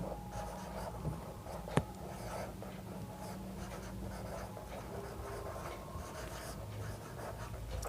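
Pen scratching steadily across paper while writing out a geometry theorem about circles, a continuous soft scraping with one sharp tap near the start, close and otherwise free of speech.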